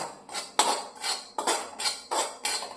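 A metal spoon scrapes and taps against a pan in quick repeated strokes as roasted semolina is transferred onto a plate, about eight sharp clinks in a steady rhythm, close and clear with no talk.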